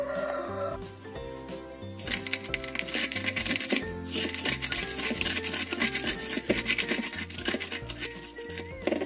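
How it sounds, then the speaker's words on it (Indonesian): Garlic, shallot and turmeric are ground by hand in a mortar and pestle, giving close, steady rubbing and grinding strokes in a loose rhythm over a background of clucking chickens and a rooster crowing. "2 siung bawang putih, 1 butir kecil bawang merah, dan setengah ruas kunyit. Ini kita haluskan dahulu."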